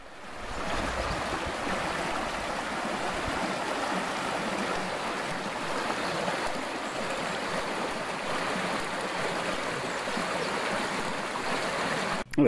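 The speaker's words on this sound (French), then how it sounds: "ce qui coule du chemin, et ben se rejoint sur ruisseau à plus gros débit" Water rushes steadily through a stream near Puy de la Voye, a continuous close babbling flow with no talking.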